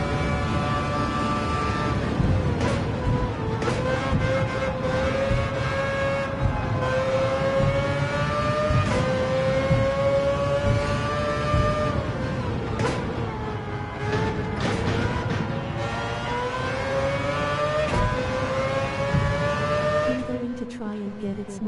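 Racing car engines in Gran Turismo 7, including a Porsche and a McLaren, roar continuously, rising and falling in pitch through gear changes, loud and sustained, with someone talking over them.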